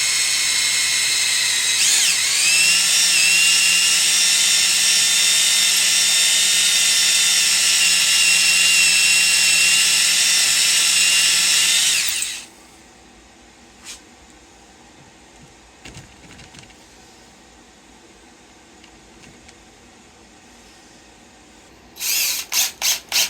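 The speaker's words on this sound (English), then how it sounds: "run a drill bit that's about the same width, full depth" A power drill whines loudly and steadily for about twelve seconds while drilling into a Yamaha F90 outboard lower unit, then stops, leaving faint clicks and handling sounds before brief drill bursts at the end.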